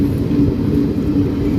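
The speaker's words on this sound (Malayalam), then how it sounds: "ട്രെയിൻ വാഞ്ചി മഞ്ഞാച്ചി സ്റ്റേഷനിലേക്ക് എത്തിക്കൊണ്ടിരിക്കുകയാണ്." A train arriving at Vanchi Maniyachi station, a loud, steady low rumble and drone of the moving train heard from on board, with no voices.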